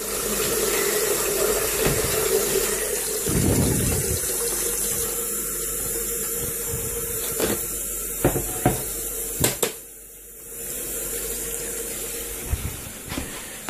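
A kitchen tap runs in a steady, loud gush into a sink for washing up, with a few brief knocks and clatters near the end and no speech.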